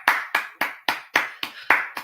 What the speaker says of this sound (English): I'll keep on clapping it until he's off of the pitch